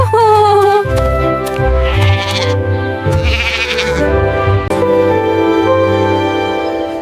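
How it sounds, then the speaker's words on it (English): Baby goats bleat loudly and close, with a run of wavering cries followed by more calls over a steady pastoral music bed. "And baby goats."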